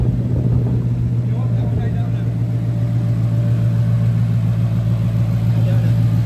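A Shelby Mustang GT500KR with Borla exhaust, sport cats, X pipe and long-tube headers runs at a steady, deep, loud rumble. It holds constant throughout without clear revs.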